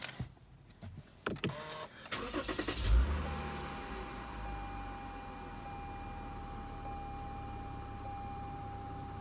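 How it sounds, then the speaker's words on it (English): A car with about 60,000 miles cranks after a few clicks and clunks, catches near the middle and settles into a steady, fairly quiet idle hum. "Go ahead and start it up."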